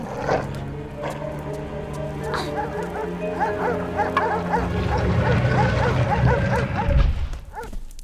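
A dog barks in Tomb Raider 4 Remastered, loud repeated yips and bow-wows in a rapid irregular series, with whimpering tones among them over game ambience.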